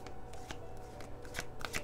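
Tarot cards are shuffled by hand in a series of quick riffling bursts, soft and close, growing busier and crisper toward the end.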